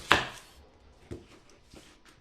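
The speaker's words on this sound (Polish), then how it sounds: "I na koniec kroimy naszą cebulę." Knife chopping an onion finely on a board, one sharp loud cut followed by a few softer, quieter cuts spaced apart, close by with no talking.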